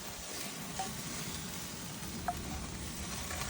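Oysters and shrimp on a charbroil grill give off a steady, faint sizzle and crackle, with a couple of small pops rising briefly above the constant frying hiss.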